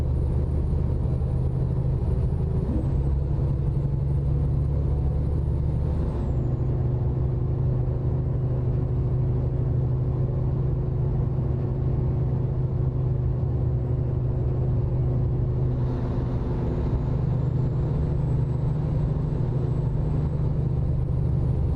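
A deep truck engine in American Truck Simulator drones steadily at low pitch, with a brief change in tone early on and again later, continuous and without talk.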